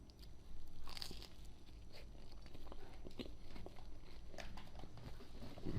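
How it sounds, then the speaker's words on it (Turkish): Someone bites into and chews a toast sandwich close to the microphone, producing a series of crisp crunches over a steady low background hum, quiet overall with no talk. "Tostan bir ısırık alıyoruz."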